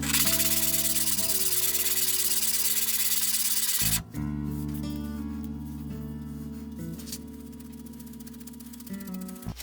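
Sandpaper rubbing against an iron rebate plane being flattened, a steady loud scraping hiss that runs continuously with one brief break partway through.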